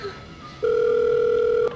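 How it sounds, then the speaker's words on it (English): A single ring tone from a telephone plays over speakerphone, a steady electronic beep lasting about a second against quiet room noise. "It's ringing."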